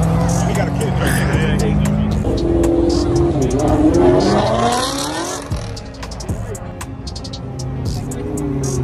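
A Ford Mustang revs at a Cars and Coffee car meet, its engine rising and falling in loud sweeping pulls that fade toward the end, with crowd chatter and voices around it.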